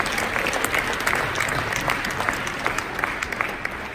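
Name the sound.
audience snapping their fingers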